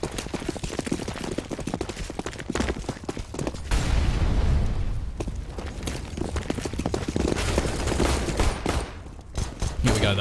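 Rapid pistol fire crackles through a Counter-Strike match on the Cobblestone map, a dense run of sharp shots layered with game noise and a caster's voice underneath.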